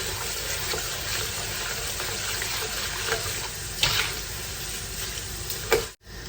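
Mung beans deep-frying in oil give off a steady, even hiss with a few faint pops; it sits at a moderate level and briefly drops away near the end.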